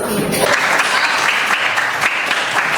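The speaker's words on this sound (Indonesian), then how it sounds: "Beri tepuk tangan dulu untuk Hakim dengan Yus." Classroom applause for students during a physics lesson, a short burst of many hands clapping together, loud and close, lasting a few seconds.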